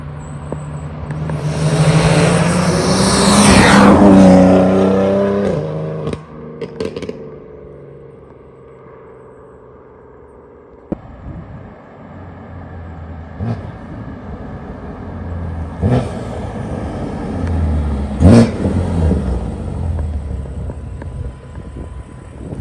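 A rebuilt, previously wrecked BMW M4 runs through an exhaust sound check, with a loud rising rev that swells then fades, followed by quieter idling punctuated by several short sharp blips and pops.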